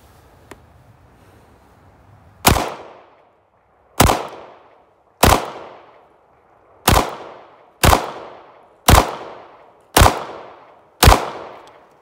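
Eight loud, sharp gunshots from a Smith & Wesson Shield EZ 9mm pistol fired with Tula ammunition at an outdoor range, each crack separated by roughly one to two seconds of decaying echo.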